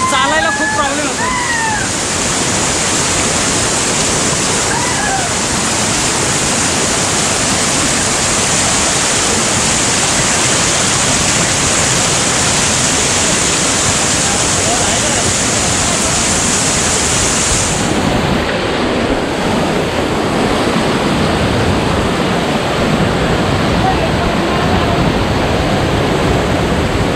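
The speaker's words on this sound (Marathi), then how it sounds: "पाण्याचा प्रवाह इतका आहे की तो पाय उचलून टाकायला आहे ना खूप अवघड जाते" Strong stream flow near Devkund waterfall in heavy rain fills the scene with a steady, loud, close rush of water that never lets up, and a voice is briefly heard early on.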